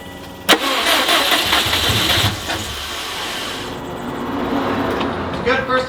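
A Subaru WRX STI cranks and catches on its first start after a rebuild, a sharp click then a loud rough roar settling into idle, with a knocking fault noted; voices murmur faintly underneath.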